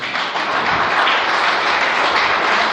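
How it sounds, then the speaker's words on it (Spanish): Church congregation applauding Jesus during a service, a dense, steady wash of many hands clapping at full volume throughout with no gaps. "Denle un aplauso a Jesús"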